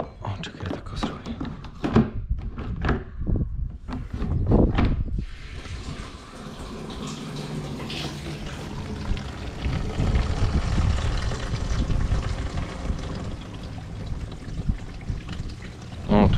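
Water gushes steadily into the tank of a field sprayer used on wheat, a continuous loud rush that follows a few seconds of knocks and handling sounds, with a little talk at the start.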